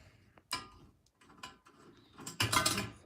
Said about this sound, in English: So we take out these little screws here.